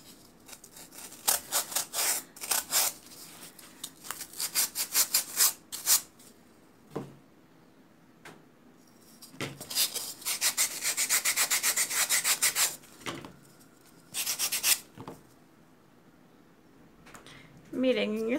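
A pumpkin table centerpiece being sanded by hand, with bursts of close, raspy rubbing strokes separated by short pauses, and a voice briefly heard near the end.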